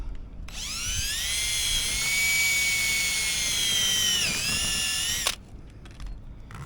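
A power drill runs one long continuous whine, driving residential trim screws with gaskets into a metal porch roof; the motor pitch rises steadily, dips briefly near the end, then cuts off, leaving quiet outdoor background.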